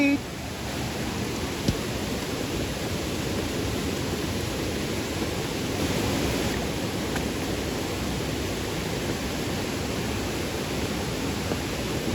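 Floodwater from heavy rain rushes past in a Konkan village, a broad, steady roar of flowing water that fills the whole stretch, with a voice faintly present beneath it.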